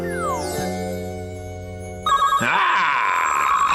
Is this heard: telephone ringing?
yes